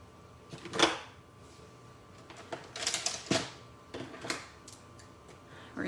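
Scissors snip designer paper for a gift card holder in a few quick, close, crisp cuts separated by pauses, along with light paper rustling and handling noises.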